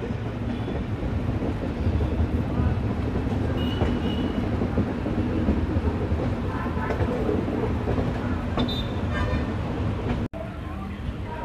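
The Antyodaya Superfast Express runs over curving track near Chennai, giving a continuous heavy rolling rumble with faint clatter and flange squeal. Voices can be heard faintly under the noise before it abruptly drops near the end.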